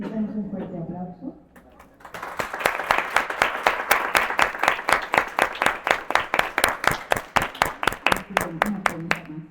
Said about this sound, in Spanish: Les damos un fuerte aplauso.